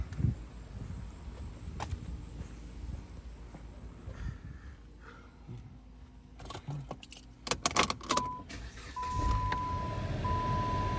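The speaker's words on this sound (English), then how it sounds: "So I'm gonna turn on the car." Keys jangle near the ignition, then a Dodge/Chrysler/Jeep 2.4L engine cranks and starts, settling into a steady idle hum alongside a thin electronic tone.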